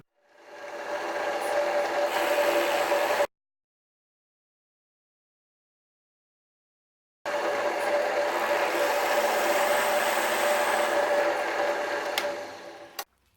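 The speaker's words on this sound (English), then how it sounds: "I'm about to drill the second hole." A power drill whirs steadily for a few seconds while drilling a hole in wood, stops for a silent pause, then runs again for several more seconds before winding down.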